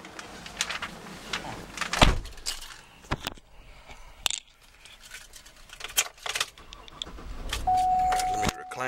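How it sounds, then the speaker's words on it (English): Keys jangle and clink inside a 2009 GMC Yukon Denali SUV, with door and interior clunks before a short whirring tone near the end as the engine is started; irregular, close, handled sounds. "All right, let's go ahead and get it started now."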